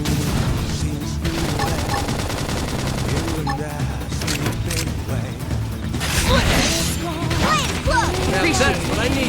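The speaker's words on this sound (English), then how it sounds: "Flame grenade!" Flame grenade bursts in the Xenoblade Chronicles X: Definitive Edition battle against a Cinicula Tyrant, a rapid crackling barrage of blasts and clanks layered under battle music and shouted combat voices throughout.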